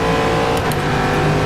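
Corvette C7.R GTE race car engine at Sebring in rFactor 2, a loud sustained drone at steady revs, close and continuous with no speech.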